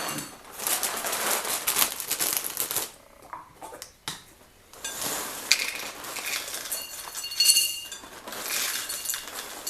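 Plain Chex cereal pours into a bowl in a series of crisp, rattling rushes of pieces striking and clinking, with short pauses between pours, loud and close.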